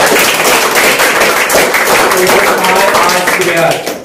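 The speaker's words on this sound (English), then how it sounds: "The clapping for her." Loud, close audience clapping at a school mathematics quiz competition, rapid and sustained for several seconds with voices mixed in.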